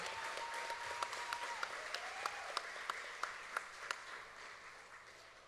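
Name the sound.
pageant audience applause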